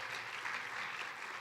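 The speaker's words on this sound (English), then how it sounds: "So give it another round of applause" Steady crowd applause fills the room at an alumni awards event, a dense, even wash of clapping with no pauses for the full stretch, fairly close and moderately loud.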